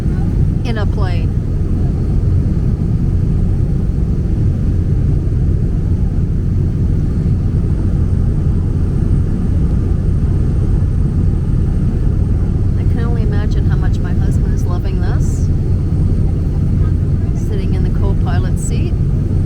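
A small plane on an air tour over Milford Sound, New Zealand, gives a loud, constant propeller and engine drone filling the cabin, with brief bursts of talk over it near the end.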